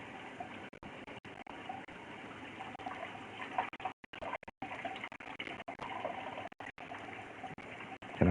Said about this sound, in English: let you listen to my faucet. It's spitting out hot water.